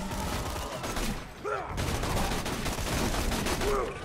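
Gunfire from a video game weapon: rapid bursts of shots crackle across the clip, briefly pausing near one and a half seconds, mixed with game effects and quiet voices in the background.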